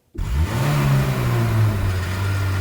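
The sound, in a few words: roar of a huge engine, sound effect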